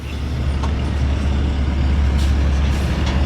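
A heavy truck rolls past on a road near a roundabout, a loud, steady engine rumble with broadband road noise that stays strong from start to finish.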